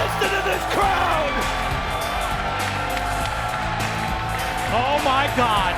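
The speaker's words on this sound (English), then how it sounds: "What a response! What a response here in Orlando!" Orlando wrestling arena crowd at TNA Genesis 2007 roaring, yelling and cheering in a dense, sustained wall of noise, with a commentator shouting over it.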